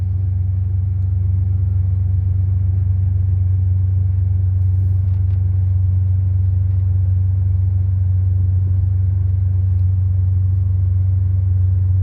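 A 1990 Eagle Premier cruises along the road, its cabin filled with a steady deep engine and road rumble that holds constant and close, with no speech over it.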